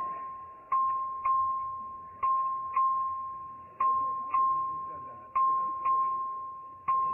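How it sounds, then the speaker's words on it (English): A record vote bell is rung by the clerk in a state legislative chamber: repeated sharp metallic strikes in uneven pairs, each leaving a ringing tone that slowly decays, moderately distant over a quiet room hum. "The clerk will ring the bell."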